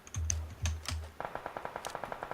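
Gunfire in the game PUBG: a few heavy single shots, then a rapid, even burst of lighter automatic fire, all fairly quiet with no talk over them.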